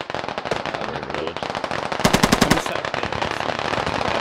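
Rapid automatic gunfire in the military shooter Squad, with dense overlapping bursts and one loud, close rattling burst standing out midway through.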